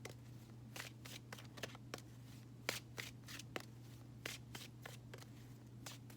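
Tarot cards are shuffled by hand in a quiet room, a steady series of soft riffling flutters and light slaps repeating every half second or so over a faint low hum.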